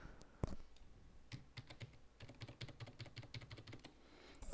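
Someone types on a computer keyboard at a quiet desk, with quick bursts of light key clicks and one sharper tap near the start.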